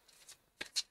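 Tarot cards shuffled by hand, heard as two quick, soft riffling bursts close by in an otherwise quiet room, with no talking.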